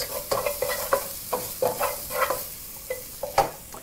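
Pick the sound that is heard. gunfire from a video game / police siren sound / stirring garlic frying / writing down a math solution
stirring garlic frying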